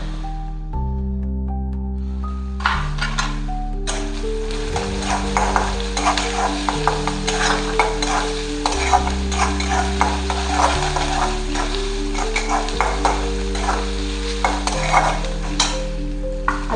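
Garlic and ginger sizzle and fry in hot oil for veg Manchurian while a spoon stirs and scrapes the pan, with steady crackling close up and no talking.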